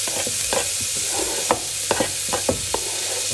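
Garlic and onions land in a pot of fresh tomatoes simmering for homemade Italian tomato sauce, giving soft sizzling and stirring scrapes with several distinct clacks of a spoon against the pot, close and without talk.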